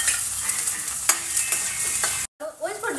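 Chopped onions tossed into a hot pan give a close, steady sizzle with clattering stirs and scrapes, broken by a brief silent gap, then renewed frying; no one speaks.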